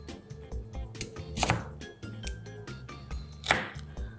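A crinkle-cut knife chops through vegetables in a kitchen, making a few distinct sharp cutting knocks on a board, alone and fairly quiet.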